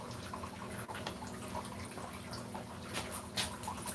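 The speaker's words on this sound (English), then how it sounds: "Alright, so now I need to get my spray bottle again." A handheld spray bottle mists plain water onto long 4c hair during wet twisting, giving a couple of faint, short hissing spritzes over a quiet room background.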